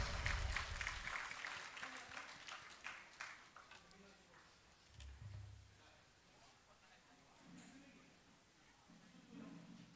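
Applause at the award ceremony of a national debate competition at Cotton University, many hands clapping loudly at first and then fading away within a few seconds, followed by quieter murmuring and shuffling in the hall.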